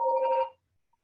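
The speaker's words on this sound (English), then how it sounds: "Whose phone's going?" A phone rings during a parish council meeting held remotely, one short electronic trill of steady tones lasting about half a second, followed by silence and a brief muffled noise.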